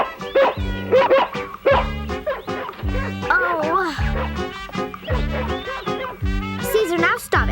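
A dog barks and yips repeatedly at close range in short, rhythmic bursts, mixed in with people talking.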